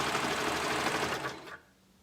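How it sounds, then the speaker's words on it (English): A sewing machine runs a steady fast stitch along the underside seam of a sleeve to close it into a loop, a close continuous whirring buzz that stops abruptly after about a second and a half. "we're going to sew along there to make this sleeve into a circle"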